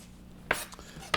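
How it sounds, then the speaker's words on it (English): Two sharp knife chops through an onion on a board, spaced about half a second apart, crisp and close against a quiet room. "There's no reason to rush cutting up the onion."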